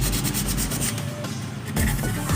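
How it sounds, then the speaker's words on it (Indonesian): Sandpaper rubs back and forth on brass electrical contacts from a Honda Vario 125 fuel gauge, a steady close scratchy rasping in quick strokes with a short pause midway. "Terus di amplas ini kan kuningan."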